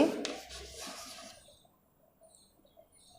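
Pen scratching across paper while writing an answer, a short burst of soft scribbling strokes that fades into near silence.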